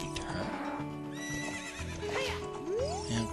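Video game horse in Zelda: Ocarina of Time giving a rising neigh and whinny over clip-clopping hooves, set against background game music, close and clear.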